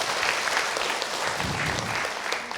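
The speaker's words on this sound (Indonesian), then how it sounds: "Baik, tepuk tangan untuk Ibu Imar." Audience applause in a religious talk-show studio, dense steady clapping from a crowd lasting the whole short stretch at an even loud level.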